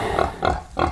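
An American Guinea Hog, a heritage pig breed, gives three short, close grunts in an even rhythm.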